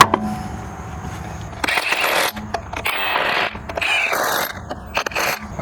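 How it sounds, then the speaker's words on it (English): A torque wrench tightens the lower rear shock bolt on a 2005-2014 Ford Mustang S197, giving intermittent close-up bursts of mechanical ratcheting and scraping with brief quiet gaps between them and no talk. "this lower bolt gets torqued to 85 foot-pounds"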